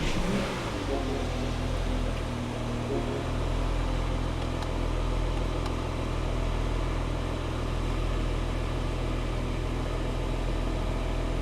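A Porsche Cayenne engine cranks and fires after a battery replacement, then settles into a steady, loud idle with a continuous low drone that carries on evenly throughout.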